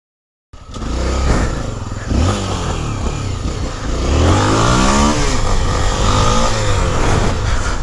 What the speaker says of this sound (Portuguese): aliviando a pinça da moto dele